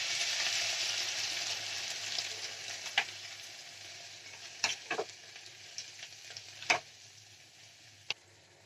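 Vegetables fry in hot oil in a pan for a vegetable and spinach soup, a steady sizzle that thins out, with sharp clinks and scrapes of a utensil as soaked dal goes in.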